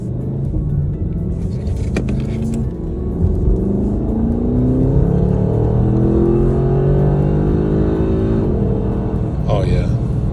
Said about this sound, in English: That engine sounding off, that V8 sounding off like that.